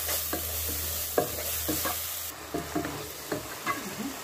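Garam masala and cumin powder get stirred into frying okra masala in a pan, scattered scraping strokes over a soft sizzle, close and moderate in level, with no speech.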